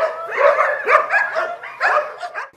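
Several police training puppies bark and yip repeatedly while playing together, loud and close, in quick overlapping bursts with brief whimpers and no talk.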